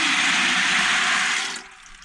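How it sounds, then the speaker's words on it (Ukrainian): Dried peas pour into water in a kitchen, a steady dense rushing splash that lasts about a second and a half and then stops abruptly, leaving a quiet tail. "горох я засипаю в воду"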